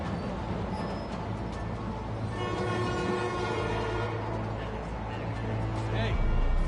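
In the Spider-Man video game, an elevated city train rumbles past with a sustained horn-like tone, a continuous loud rolling clatter over steady city ambience, with voices mixed in.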